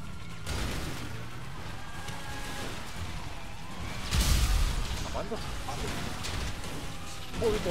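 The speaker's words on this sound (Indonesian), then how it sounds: "Polisinya meledak." A police car blows up in GTA 5 Online, giving one heavy, booming blast midway through that stands out above the ongoing game noise and faint chatter.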